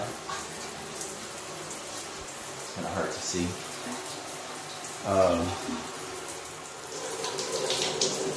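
Water runs from both the shower and the tub faucets of a bathtub at full flow, a steady hiss and gush that carries on throughout while a person talks briefly over it.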